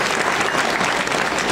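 An audience at a Marathi kirtan devotional gathering claps loudly and continuously, a thick unbroken wash of applause with no voices on top.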